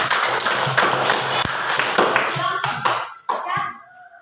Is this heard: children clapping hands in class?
yes